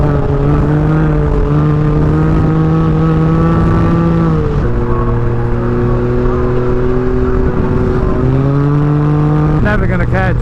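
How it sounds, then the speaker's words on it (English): A Suzuki GSX-R motorcycle engine hums loudly and continuously nearby, its pitch stepping up and down between steady holds, with a brief sharper burst at the end. "you got a Suzuki GSX-R"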